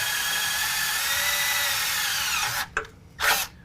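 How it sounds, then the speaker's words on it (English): A power drill bores a 1/2 inch hole in a metal suspension bracket while a Fabtech coilover lift kit is installed on a 2019 GMC Sierra 1500. A loud, steady whine runs for about two and a half seconds and ends in two short bursts. "drop this bracket back out of place and drill a 1/2 inch hole"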